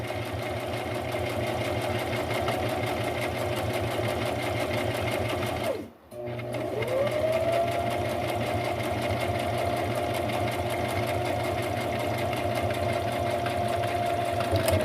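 A sewing machine stitches a two-tone collar in a steady, fast mechanical hum with rapid needle ticking, briefly stopping near the middle before whirring back up and running continuously, close and loud.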